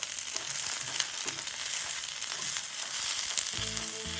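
Onions frying in a pan, a steady close hiss and sizzle with faint scraping near the end, no voices.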